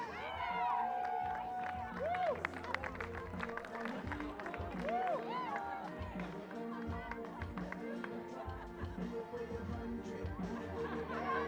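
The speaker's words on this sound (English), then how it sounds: "Let's give one more round of applause for the 1998 NAIA National Champion Western Washington University Vikings." Crowd at a college softball game applauding and chattering to honor the 1998 NAIA National Champion Western Washington University Vikings softball team, a steady, somewhat distant wash of clapping and voices with a few whistles.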